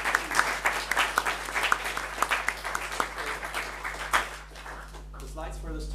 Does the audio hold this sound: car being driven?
no